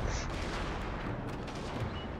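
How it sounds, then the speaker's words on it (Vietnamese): In the video game The Fall of the Samurai, a volley of musket-like gunfire crackles in quick, overlapping bursts, several shots popping at mid distance over a constant battle rumble. "lính súng đã bắt đầu bắn"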